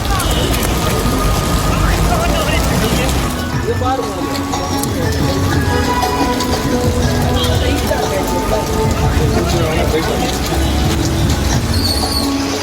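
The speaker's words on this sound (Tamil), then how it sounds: "கொடைக்கானல் மற்றும் மலை கிராமங்களிலும் மிதமான மழை பெய்தது" Moderate rain falls on roads in the hill villages around Kodaikanal, Dindigul district, as a steady, loud, dense wash of noise with a low rumble beneath, continuing throughout without pause.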